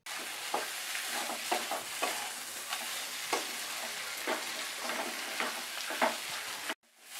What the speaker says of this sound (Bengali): মশলার সাথে চালটা আমার খুব সুন্দর করে কষা হয়ে গেছে